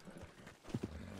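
A horse's hooves clop in a few quick steps in a video game, faint and brief, with a short soft whinny-like snort near the middle.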